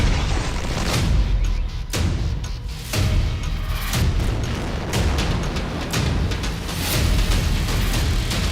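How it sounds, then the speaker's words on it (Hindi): Repeated heavy booms of Israeli strikes on an enemy target roll out one after another, loud and rumbling, with deep low-end blasts recurring roughly every second. "दुश्मन पर इजरायल का पहला धमाका।"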